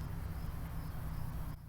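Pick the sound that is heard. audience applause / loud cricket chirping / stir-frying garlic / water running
loud cricket chirping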